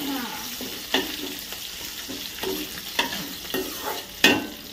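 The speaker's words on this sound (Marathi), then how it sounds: "थोडस परतून घ्यायचं." Ingredients sautéed and stirred in a pan for chili chicken, with repeated spatula scrapes and clinks over a steady light sizzle, close by, with no talking.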